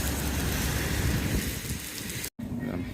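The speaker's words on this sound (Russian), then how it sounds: "Сейчас дождь пошел. Стоим под навесом заправки." Steady rain falls around a gas station canopy in Florida, a dense even hiss that fills the whole clip and breaks off for an instant near the end.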